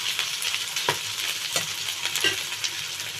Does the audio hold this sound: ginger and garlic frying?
yes